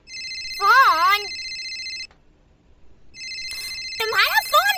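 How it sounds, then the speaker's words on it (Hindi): A phone rings with a steady electronic tone in two bursts, separated by a short pause, while a voice speaks over the ringing. "तुम्हारा फोन बज रहा है।"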